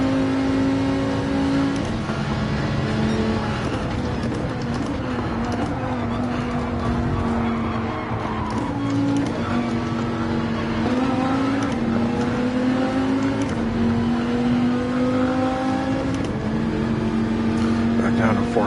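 Race car engines roar in a Gran Turismo manufacturer's cup qualifier race, a loud continuous drone that rises and falls as the cars shift through gears, with someone commentating over it.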